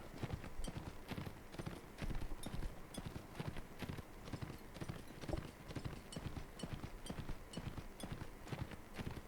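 Horse hooves clip-clop in the medieval combat game Mount & Blade: Warband, a fast, steady galloping rhythm that runs throughout, quiet but distinct with no talking.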